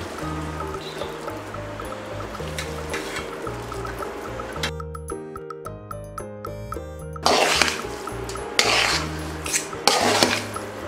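Boiled Maggi noodles are stirred with Korean Schezwan-style sauce in a pan, with continuous scraping and clinking against the metal, close and fairly loud, and a brief tonal passage partway through.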